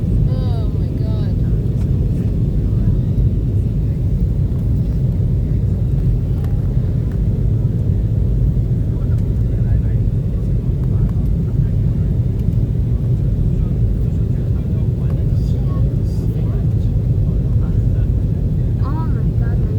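Steady roaring cabin noise inside an Airbus A321neo on landing approach into Seattle, a continuous low rumble throughout with people occasionally talking over it.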